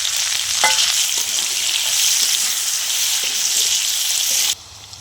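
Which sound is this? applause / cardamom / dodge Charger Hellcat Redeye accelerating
cardamom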